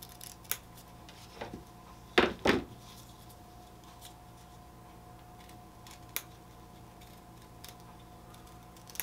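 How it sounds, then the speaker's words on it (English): Scissors trimming excess fabric around an embroidered patch, faint snips scattered over a quiet room, with two louder, sharper cuts close together early on and a few lighter clicks later. "just go all the way around, trimming away the excess fabric"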